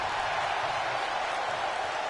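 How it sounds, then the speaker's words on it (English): An arena crowd at a wrestling show cheers and applauds in a steady, dense wash of noise throughout, with no single voice standing out. "The crowd are loving it, which makes a change."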